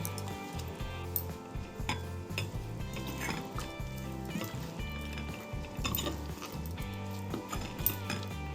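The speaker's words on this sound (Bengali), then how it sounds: "এবার হাত দিয়ে সব কিছু ভালো করে একসাথে মেখে নেব।" Chopped onion and egg filling for stuffed pointed gourd being mixed together by hand in a bowl, soft faint squishing with occasional light clinks of dishes, steady and close.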